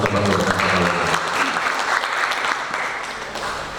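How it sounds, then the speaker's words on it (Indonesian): Applause from an audience at a teachers' association (PGRI) gathering in Pekalongan, dense steady clapping that fills the whole stretch and fades slightly toward the end. "Tepuk tangan untuk teman-teman Pekalongan."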